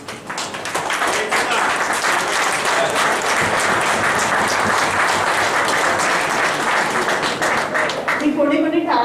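An audience at a talk breaks into sustained, loud applause, dense clapping that swells quickly and holds steady for several seconds, with some voices mixed in.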